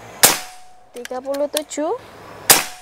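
Two sharp cracks from a PCP Predator air rifle, spaced about two seconds apart, loud and close, with a man counting shots aloud between them.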